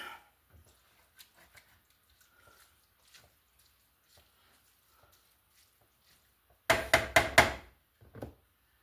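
A pan of smoked sausage, potatoes, onions and sauerkraut is stirred. Long near-silence with faint ticks gives way to a quick cluster of sharp utensil knocks and clatter against the pan, then one last tap.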